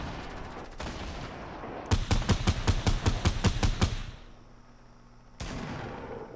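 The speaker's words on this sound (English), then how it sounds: "I switch over to the SMG. Take some of those walls out." SMG gunfire shooting out walls in Fortnite, a quick burst of about a dozen sharp, evenly spaced shots, loud and close, with a few other scattered game sounds around it and no talking.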